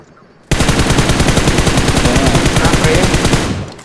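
Sustained automatic gunfire in the BGMI battle royale game, a loud rapid burst of shots starting abruptly and running continuously for about three seconds before tailing off.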